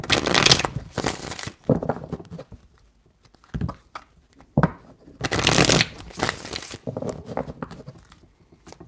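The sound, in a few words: shuffling tarot cards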